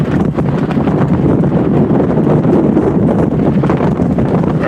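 Strong tropical storm wind of about 50 knots roars steadily into the microphone on an anchored boat, a loud, constant buffeting rumble with gusty fluctuations throughout.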